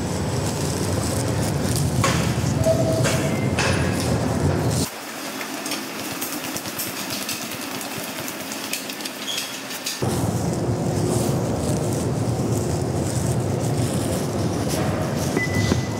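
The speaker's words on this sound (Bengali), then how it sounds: "আর অলরেডি মেট্রো সাউন্ড শোনা যাচ্ছে" A Montreal metro train rumbling at Guy-Concordia station, a loud continuous low drone that briefly drops to a quieter hum midway before the full roar returns.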